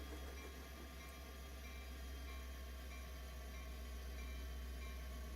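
A locomotive's wheels slip and spin on the rails in Train Simulator Classic, on an Amtrak Auto Train in Florida: a faint, steady mechanical drone and rumble with no distinct beats.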